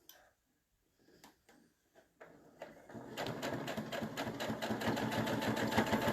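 A sewing machine stitches a seam along quilt fabric using a regular presser foot, starting with a few slow isolated needle clicks before settling into a fast, steady close-up chatter that grows slightly louder.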